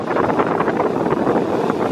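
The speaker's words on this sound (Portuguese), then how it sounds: "tá meio agitado porque tá ventando muito" Strong wind roars steadily against the microphone, a constant rushing buffet with no voices.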